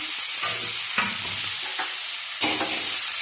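Food stirred in a hot pan with turmeric, cumin powder and salt, a close, steady sizzle broken by several soft scraping strokes of the spatula at irregular intervals.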